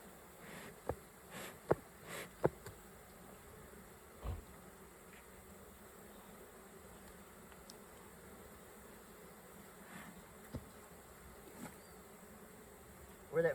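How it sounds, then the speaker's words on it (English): Honey bees hum in a steady, soft drone around an open hive during feeding, with a few close thumps and knocks from frames being handled. "there's a lot of bees on the ground over here too."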